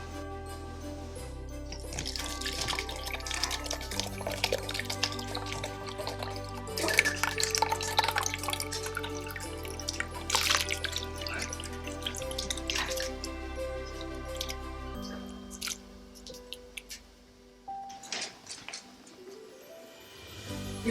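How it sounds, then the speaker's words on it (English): Homemade Caribbean ginger beer strained through a cloth, with liquid dripping and trickling steadily into a container beneath for about twenty seconds, fairly close and moderately quiet, with no talking. "Now we'll strain and bottle."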